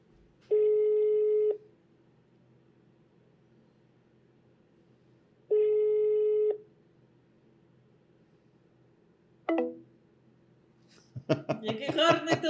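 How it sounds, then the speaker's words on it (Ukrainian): A telephone ringback tone sounds twice through a handset, each tone about a second long and five seconds apart. A short click follows, then a voice begins talking at the end. "Який гарний телефонний дзвінок"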